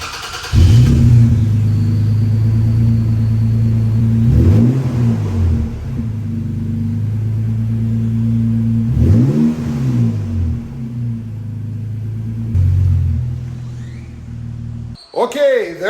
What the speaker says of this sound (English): Now, I'm gonna go ahead and do a cold start.